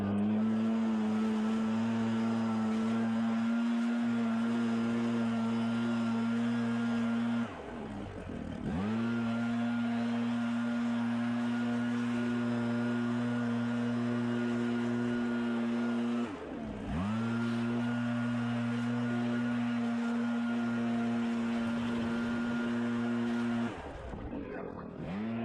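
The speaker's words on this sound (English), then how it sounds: "to go ahead and start my backpack blower on the ground" A backpack leaf blower runs at a steady, loud, droning pitch while clearing gutters on a roof, dipping briefly twice before returning to full power.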